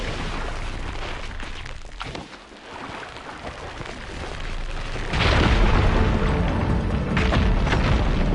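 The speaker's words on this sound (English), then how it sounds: "There, more rubble. Igniting that fire gleam should clear it." A fire gleam explodes to clear rubble in Horizon Forbidden West, a sudden deep boom midway that swells into a loud, rumbling blast.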